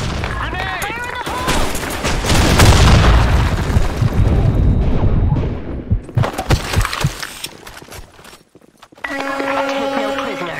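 Grenade blasts in the online shooter BlackShot: a dense, loud barrage of booming explosions and popping bursts rolls for several seconds, then thins into scattered blasts. Game sounds and chatter come at the end.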